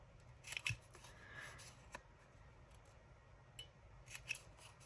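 Scissors snip through paper tickets trimmed to two by two inches, several quiet close cuts and crisp clips in an irregular rhythm, with faint rustling between them and no speech.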